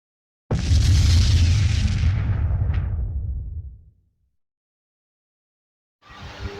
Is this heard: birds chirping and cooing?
no